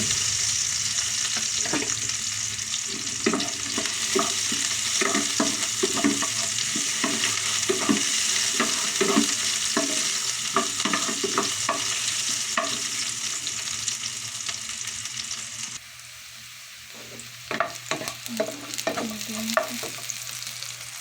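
Ginger sautéing in a pan for chicken tinola, a steady loud sizzle with repeated scraping stir strokes, quieting briefly near the end before the stirring picks up again.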